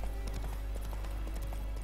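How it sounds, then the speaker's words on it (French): Horse hooves clip-clop in a quick, even rhythm within The Witcher 3 video game, heard faintly under a low background hum as the horse approaches. "Le petit cheval qui arrive ici."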